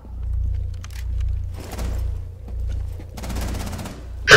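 Automatic gunfire from the video game Rainbow Six Siege, bursts of rapid shots coming in several waves with short pauses between them, loud and close, with no talking over it.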